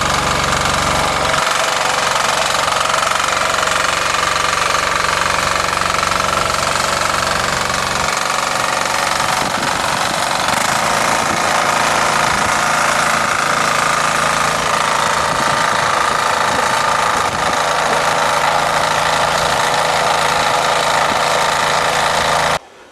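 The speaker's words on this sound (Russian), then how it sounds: "Дизельный мотоблок Кипр," A 6.1 hp, 300 cc diesel power tiller engine runs continuously up close, a loud, rapid, knocking chug that holds steady before cutting off abruptly at the end.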